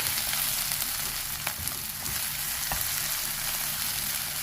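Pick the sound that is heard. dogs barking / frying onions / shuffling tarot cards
frying onions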